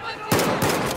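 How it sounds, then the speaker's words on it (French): Automatic weapon fire from the Battlefield 4 video game comes in three sharp loud bursts of rapid shots, close and punchy, within about a second. "mais je tire à côté"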